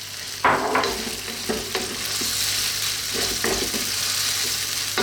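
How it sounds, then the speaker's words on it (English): Pasta is stirred into a creamy tuna sauce in a hot pan. A steady sizzle runs underneath several scraping and clattering stirs of a utensil against the pan, close up and with no talking. "Let's get that pasta in the mix there."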